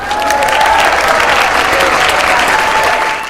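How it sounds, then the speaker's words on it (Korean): Audience at a lecture clapping, a loud, dense burst of applause that swells quickly and holds steady for a few seconds before tapering off. "박수 한번 쳐주세요."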